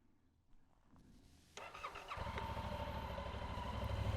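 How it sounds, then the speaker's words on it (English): A 2025 Yamaha MT-07, a roughly 700 cc parallel-twin motorcycle, cranks and fires up nearby, then settles into a steady, throbbing idle that grows slightly louder, with no talking. "I'm just gonna turn the bike on."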